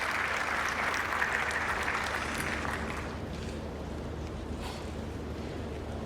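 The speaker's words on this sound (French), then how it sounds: "On va les applaudir" An audience at a seminar on preventing school dropout applauds in a sustained, dense wash of clapping that fades slightly after a few seconds and continues softer to the end.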